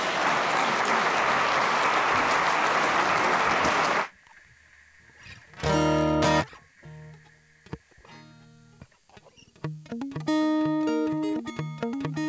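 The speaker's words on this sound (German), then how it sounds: "Und jetzt vielleicht vorab noch ein Applaus" Dense audience applause at an awards event fills the first four seconds loudly, then cuts off abruptly and gives way to quieter music and scattered sounds.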